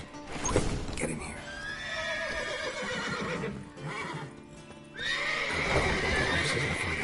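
Horses in The Witcher 3: Wild Hunt whinny loudly several times over clip-clopping hooves, with game voices speaking in between.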